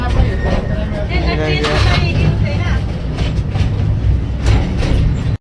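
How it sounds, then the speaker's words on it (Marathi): A small amusement park toy train rumbles along with a steady rolling clatter on a ride around an adventure park at a water park in Akluj, accompanied by a mix of voices and chatter from riders throughout. "आपण ट्रेनमध्ये बसलेलो आहे. ट्रेन काढली ॲडव्हेंचर पार्क फिरवून आणण्यासाठी"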